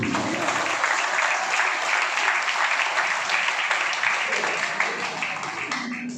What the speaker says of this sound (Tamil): எங்கே உங்கள் கைத்தட்டல்?